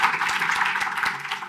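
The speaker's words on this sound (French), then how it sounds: "je pense qu'on peut les applaudir très fort" An audience at a French-language talk on the housing market claps together, a dense, steady patter of many hands close by, lasting the whole moment.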